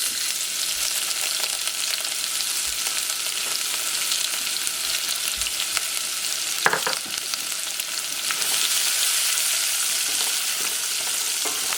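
Onions frying in a pan with cumin seeds for Bengali yellow peas curry: a steady, close, continuous sizzle that grows slightly louder toward the end, with no voices.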